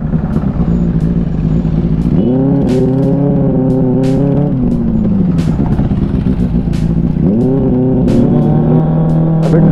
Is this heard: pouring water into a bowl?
no